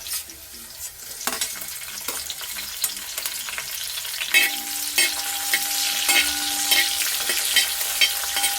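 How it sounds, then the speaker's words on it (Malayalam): Shallots tossed into a pan after ginger and garlic, frying and stirred steadily, a continuous close sizzle with scraping stirs and occasional clinks of a utensil against the pan. "അപ്പം ഇനി നമുക്ക് ചെറിയുള്ളി ഇട്ട് കൊടുക്കാം"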